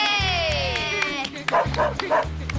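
A cartoon dog gives a run of short, yappy barks and whimpers close up, mixed with music and lively voices in the scene.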